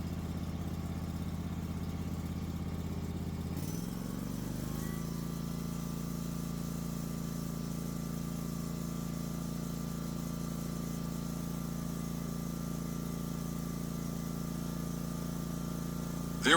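A car engine idles steadily throughout a battery charging test, with a brief shift in tone near the start, then an even, constant drone at moderate level.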